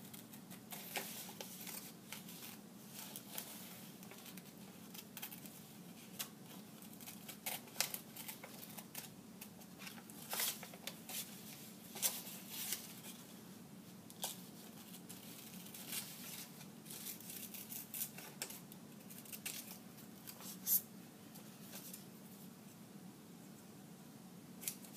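Scissors cutting a plume shape from paper, quiet irregular snips and rustles repeating steadily at close range over a low background hum.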